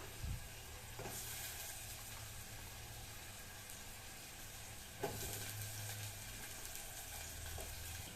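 Green chillies and garlic frying in a pan for fish curry, a quiet steady sizzle with a low hum in the background and a couple of brief stirring knocks.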